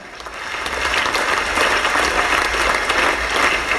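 A church congregation gives sustained applause, a dense wash of clapping that swells quickly and holds steady and loud for several seconds.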